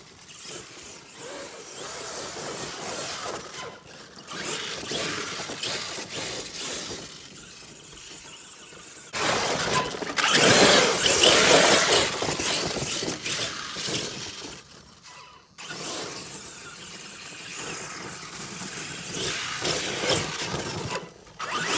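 An ARRMA Kraton 8S RC car bashes around outdoors on sandy ground and crashes into a dead tree, with rough scraping and rattling that bursts louder in the middle, then a sudden break and renewed rumbling.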